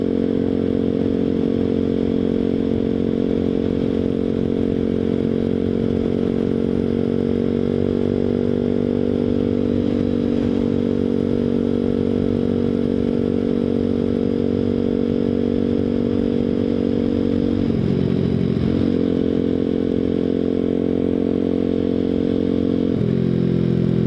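A small Grom clone motorcycle, the Boom Vader, holds a steady droning engine note while riding, with a brief pitch dip near the end as it shifts or slows.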